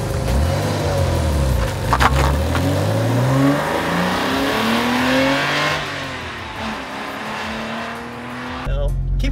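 A Porsche Boxster's 2.5-liter flat-six engine revs hard, pitch sweeping up and down through several climbs before easing off. It is loud and close, with a brief sharp click near the end.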